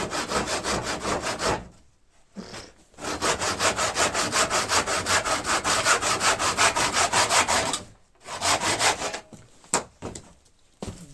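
A handsaw cuts through wood for garage walls, a near, loud, rhythmic back-and-forth rasp in long runs of even strokes broken by short pauses, with no talking.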